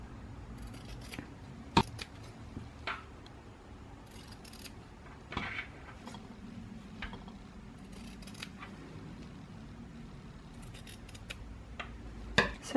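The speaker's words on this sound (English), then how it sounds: "All I'm gonna do is cut off these corner pieces." Scissors snip corner pieces off a soft cover journal, giving a few sharp, close cuts scattered through a quiet room with faint handling noise between them.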